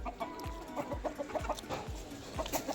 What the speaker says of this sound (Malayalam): ബാക്ക്ഗ്രൗണ്ട് മ്യൂസിക് അറിയാനായിട്ട് കോഴിക്കൂട്ടങ്ങൾ